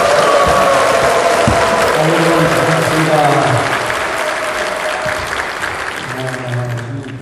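A large audience at a Jeonbuk pastors' forum seminar in Jeonju Sandol Church claps and cheers loudly as a pastor comes forward, with steady dense applause and some shouted voices and tonal sounds mixed in, tapering slightly toward the end.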